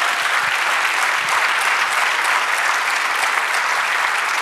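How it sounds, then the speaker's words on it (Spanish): A church congregation applauding loudly and continuously during a sermon, a thick wash of clapping that holds steady with no voices over it. "Dale un aplauso a Jesús"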